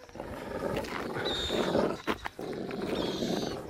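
Dogs bark and growl in open countryside near a reservoir in Argentina, rough calls carrying over a steady windy background with a sharp burst of noise midway.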